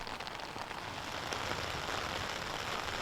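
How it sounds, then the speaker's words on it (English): Heavy rain pours down steadily during a disc golf tournament round at the Dynamic Discs Open, a dense continuous hiss of drops hitting surfaces with no voices. "I could not believe how hard it was raining at this point."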